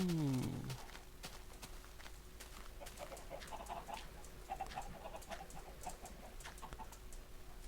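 Minecraft chickens cluck in short soft bursts inside a 2011 automatic chicken-cooking farm, heard faintly at mid distance over a low hum and light tapping.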